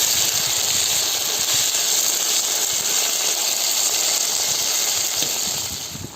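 Beef pieces and vegetables sizzle in a pan for Georgian ajapsandali, a loud, steady, hissing fry that fades slightly near the end.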